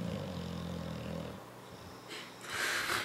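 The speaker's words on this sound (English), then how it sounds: "snoring in the background." A person snores nearby with slow, rasping, wheezy breaths: a low rumbling inhale at the start, then a pause, then a breathier snort toward the end.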